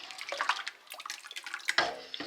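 Water bubbles and gurgles in a pot with small pops and splashes, a brief close, lively rolling boil without any voices.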